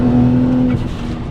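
A BMW 335i accelerates hard on a cold day, its engine note loud and close with a steady droning tone that breaks off partway through the short burst.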